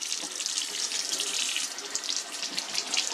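Tap water runs steadily over a Berkey water filter while its outside is washed with soap, a close, continuous splashing rush with no voices.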